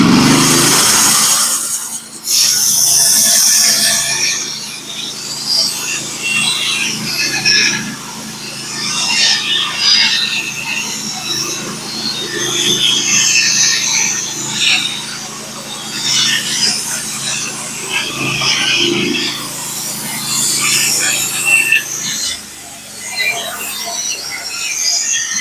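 Norwood HD36v2 bandsaw mill with new Sellite bands cutting a large Black Locust log, a steady close hiss and rasp of the blade through solid wood over engine drone, lasting throughout with brief pauses.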